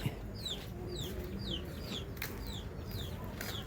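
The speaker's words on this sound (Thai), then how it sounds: "มีแต่เสียงลูกไก่ห้องเจี๊ยบเจี๊ยบเจี๊ยบเจี๊ยบ" Chicks cheep repeatedly in quick, high-pitched chirps over a steady outdoor background rumble in a flooded village in Khammouane, Laos, several birds calling close together.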